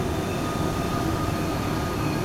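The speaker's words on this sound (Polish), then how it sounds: "Wjeżdża pociąg zamojski" A long-distance Zamość passenger train rolls into a station, its steady broadband rumble and rail noise holding constant and loud throughout with no pauses.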